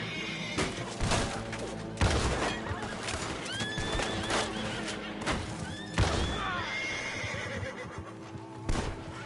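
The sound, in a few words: horses of approaching riders in Red Dead Redemption 2 video game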